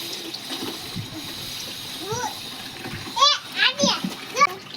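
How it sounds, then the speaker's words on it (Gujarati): Water filling from a tap in a home, splashing and trickling steadily beneath a child's chatter and adult talk, close to the listener. "સ્ટૂલ ઉપર બેસીને પાણી ભરે હો"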